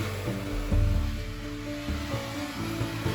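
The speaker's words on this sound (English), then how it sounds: "Another really weird sound that I used was styrofoam on a drum" Styrofoam rubbed on a drum makes a low, rumbling friction sound with a scraping texture, swelling and fading in uneven strokes, close and fairly loud with no voices.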